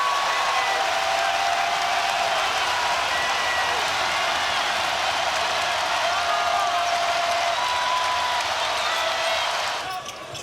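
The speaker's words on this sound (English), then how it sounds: "And that's got the crowd fired up." A college basketball arena crowd at an Alabama vs Auburn men's game roars and cheers after a reverse slam dunk, loud and continuous for about ten seconds before dropping off at the end.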